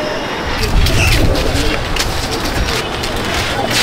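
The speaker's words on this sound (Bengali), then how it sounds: "এইগুলো আপনারা যা দেখছেন সব মোটামুটি আকাশের ঘরের পাঠা পায়রা আছে" Andhra pattha pigeons in a loft coo and rustle close by, a dense, steady mass of bird sound with people talking over it.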